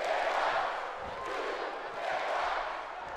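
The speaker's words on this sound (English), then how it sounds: "Those New Day Rocks chants back on here." A WWE 2K18 NXT wrestling crowd chants in rhythmic waves, broad and moderately distant, swelling and dipping across a few seconds with no commentary over it.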